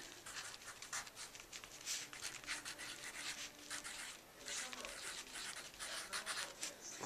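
A pen scratches and rubs quickly across a sheet of flying wish paper in short, close strokes, faint and steady for about seven seconds, over a soft background hiss.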